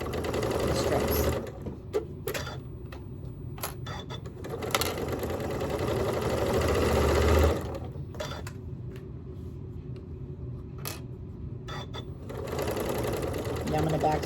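A sewing machine stitches quilt sashing strips onto blocks in quick whirring runs separated by pauses, including short back-stitch bursts, close and clear, with a person talking between runs.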